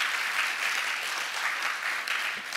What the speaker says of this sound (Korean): 이 박수 받아야 되는 거 놀랍지 않습니까